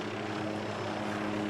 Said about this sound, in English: Officials at Camp Pendleton suggested a Cobra attack helicopter